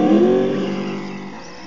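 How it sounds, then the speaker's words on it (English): A Traxxas Slash 4x4 RC car on a 2S LiPo makes a full-throttle pull, its motor whining loud and close before the tone eases off steadily. "I'll give some full throttle pulls and see if it has that same pulsing"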